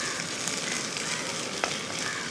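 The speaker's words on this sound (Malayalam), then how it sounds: "ആ ഇഞ്ചിയും ഈ അരിഞ്ഞ് വെച്ചിരിക്കുന്ന പച്ചമുളകും കൂടെ ഒന്നിട്ട് കൊടുക്കുക. ഒന്ന് ഇളക്കി കൊടുത്തതിന് ശേഷം" Ginger and chopped green chilli fry in a hot pan as filling for samosas, giving a dense, loud, steady sizzle close up with a brief stir near the end and no voices.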